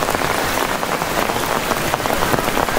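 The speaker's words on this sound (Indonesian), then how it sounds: "Ini hujan terus menerus. Nggak berhenti-berhenti nih dari siang." Steady, heavy rain pours down on a campsite at night, a dense continuous patter close by with no break and no voices.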